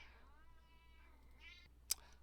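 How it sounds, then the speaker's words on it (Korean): An elderly house cat meows indoors, a long drawn-out cry followed by a shorter one, clear and fairly close against a quiet room, ending with a brief sharp click. "저희 집 고양이가 갑자기 울어서"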